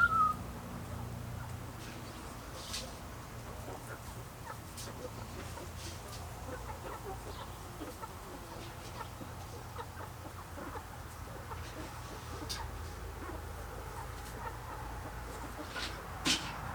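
Backyard flock of chickens clucking steadily through the whole stretch, with scattered higher calls and faint rustling, moderately close and fairly quiet without talk.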